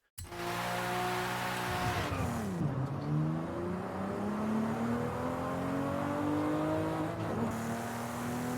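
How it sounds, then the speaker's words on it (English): A Toyota Supra and other JDM cars racing on a circuit, engine droning loudly from inside the car with rising revs, a gear change, then climbing pitch again as it accelerates. "I took these three cars and I did a circuit race in each of them"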